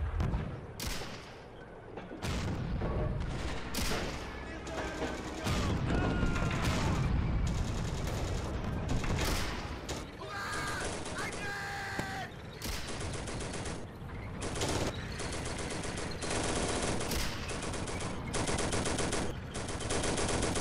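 Pz.38 light tank laying suppressing fire in the Steel Fury Kharkov 1942 game, rapid machine-gun bursts and shots crackling over a constant loud engine rumble, with mechanical clatter continuing throughout.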